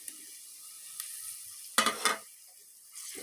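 Tomatoes frying in a pan with ginger garlic paste for aloo gobi, a faint steady sizzle broken by a few louder bursts of hissing as they are stirred, close and without speech.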